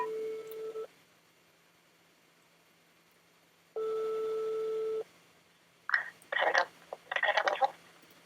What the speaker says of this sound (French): Je vais tenter un appel téléphonique directement à Créacard.